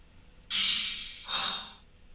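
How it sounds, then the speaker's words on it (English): Two heavy, breathy exhalations, the first long and strong, the second shorter, close to the mic with no talking. "Like the breathing, like Lamaze?"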